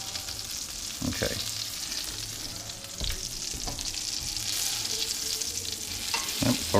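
Chicken cutlets frying in hot fat in a pan in a rental-home kitchen, a steady moderate sizzle with occasional louder crackles and utensil clinks, no talking over it.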